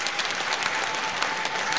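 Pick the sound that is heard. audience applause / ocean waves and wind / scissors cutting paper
audience applause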